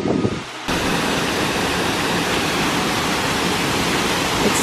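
A steady, dense rush of falling water from a waterfall at Ancient Lakes, Washington State, fills the air, loud and constant, with a short quieter moment at the very start.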